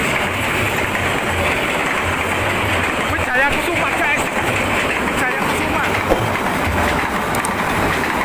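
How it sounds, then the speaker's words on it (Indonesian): Constant loud rumble and roar of a heavy cargo train rolling past a level crossing in Indonesia up close, with faint metallic squeals over the steady din. "Kereta kargo. Woi, getarannya luar biasa ya."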